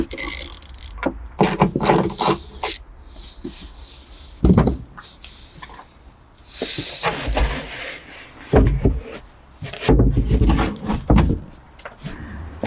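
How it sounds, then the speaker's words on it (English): A grommet puller pries plastic trim clips from the boot liner side of a BMW F10 5 Series, making close, sharp snaps and clicks in irregular bursts with plastic rattling and creaking between them. "Using my favorite grommet puller, 4 clips to go, and this should come out."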